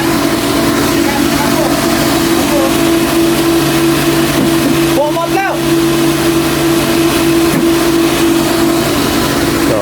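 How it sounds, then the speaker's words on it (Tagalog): Four water pump motors, 220 and 380 volt, run with a loud, steady droning hum and a constant tonal whine, unchanging throughout, with a brief rattle near the middle. "apat nating motor eh, gumagana na lahat"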